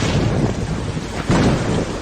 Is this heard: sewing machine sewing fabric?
no